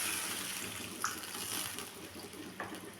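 Warm water poured steadily into a fish curry for a light Bengali patla macher jhol, a soft continuous trickle and splash close by, with a couple of brief louder splashes.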